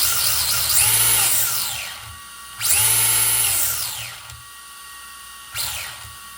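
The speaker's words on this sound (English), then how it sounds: "you got a fast servo if you turn your wheel" Fast steering servo in an RC10B7 RC car whirring in quick bursts as the wheels turn back and forth, three sharp close-up whines with rising and falling pitch and no talk.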